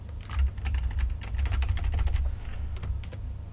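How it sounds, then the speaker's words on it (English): Keys on a computer keyboard are tapped in a quick, uneven flurry of close, soft clicks over a low background rumble, with no talking. "I'm pressing 1 and 2 to zoom out on the keyboard"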